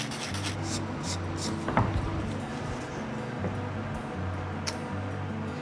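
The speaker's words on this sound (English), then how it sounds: "But what you can do is you just sort of sand it a bit." Sandpaper rubs back and forth over a dent in hardwood in repeated steady strokes, close and moderately loud, with a brief knock partway through.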